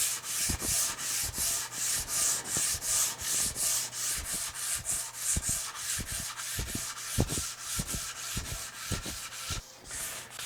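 A wooden cutting board is hand-sanded in steady back-and-forth strokes, a close, rhythmic scratchy rasp with soft knocks as the block shifts, continuing evenly throughout.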